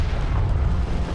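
Turret fire and explosions in a large battle in Homeworld: Deserts of Kharak, with a cruiser and light armored vehicles clashing; a dense, continuous rumble of booms and blasts fills the whole stretch without clear gaps.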